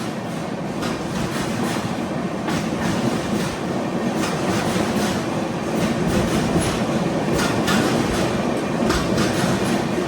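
Kamrup Express passenger train running steadily on rails, a continuous loud rumble with rhythmic clickety-clack of wheels over rail joints heard from on board, with no talk.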